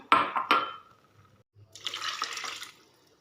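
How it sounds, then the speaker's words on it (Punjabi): Water splashes out in two quick pours into a pan of semolina for upma, then a brief hiss and a steady trickling pour for about a second before stopping. "ਤਿੰਨ ਕਟੋਰੀਆਂ ਪਾਵਾਂਗੇ ਪਾਣੀ ਦੀਆਂ"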